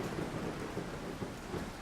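A thunderstorm rumbles with steady heavy rain and low rolling thunder, a dense continuous wash of storm noise set behind a spoken ghost story about a Civil War battlefield in Georgia.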